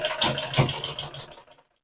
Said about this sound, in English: move the sewing machine forward